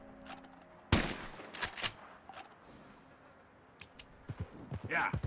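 Varmint rifle shots in Red Dead Redemption 2 during a hunt, one loud sharp crack followed by several quicker reports and game sounds, with someone talking at times.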